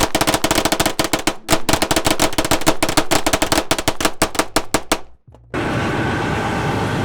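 A cheap 2011 pistol fired rapidly at a range, a long run of loud, close, evenly spaced sharp shots, a brief pause, more shots, then sudden quiet before steady background noise.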